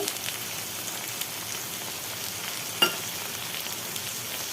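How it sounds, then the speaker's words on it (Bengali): Steady close sizzle of tomato, garlic and ginger paste with turmeric sautéing in a pan, a continuous frying hiss with one brief clack partway through. "এটা একটুখানি কষানো হোক"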